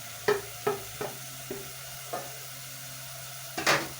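Beef pilau ingredients sizzle softly in a pan as pepper is added, with a series of distinct spoon-against-pan stirring clinks and a louder scrape near the end over a low background hum.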